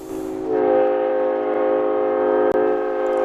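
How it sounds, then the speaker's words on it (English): A CSX Santa Train passes on the Clinchfield line with a loud, sustained, multi-tone horn blast, steady and close, briefly cut off for an instant near the end. "After seeing the train pass the paper town"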